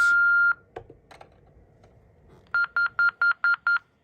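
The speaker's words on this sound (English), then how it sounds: "If you press it while not on the phone, it does the 6 answering system beeps" A Panasonic KX-TCM422 cordless phone answering system sounds a long tone, a few scattered clicks, then six quick, evenly spaced electronic beeps, loud and close with nothing else heard.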